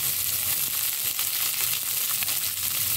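Cabbage hits a heavy hot pan with browned urad dal and sizzles loudly and steadily, a dense crackling frying hiss with faint stirring underneath.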